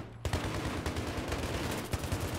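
Rapid automatic gunfire in Battlefield 3 combat, a dense stream of sharp repeated shots in quick bursts, loud and close, with no talk over it.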